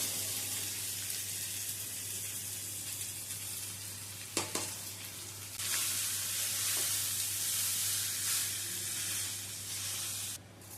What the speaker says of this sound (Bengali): এবারে দিয়ে দেবো ওপর থেকে সেদ্ধ করে নেওয়া ভাতটা।